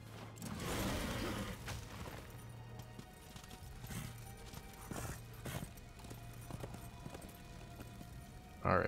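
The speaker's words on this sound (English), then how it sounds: "My horse is awesome." A horse's hooves clip-clop at a gallop in the video game Darksiders, a rhythmic run of steady hoofbeats at moderate level over game ambience, with faint talk.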